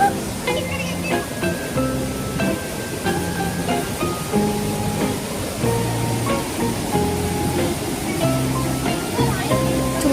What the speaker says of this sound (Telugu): వాటర్ ఫాల్ వెళ్ళడానికి అందరం సేఫ్గా చేతులు పట్టుకొని ఆ కాలువ దాటేస్తున్నాము.